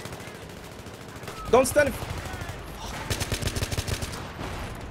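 Gunfire crackles through a Battlefield match on the Grand Bazaar map: a sharp close burst, then a rapid run of automatic shots, heard under a short spoken remark.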